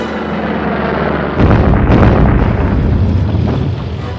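Artillery fire and explosions from a wartime armored and artillery assault at the Battle of Kursk, a loud sustained rumble that swells into a heavy, dense barrage of booms and keeps rolling on.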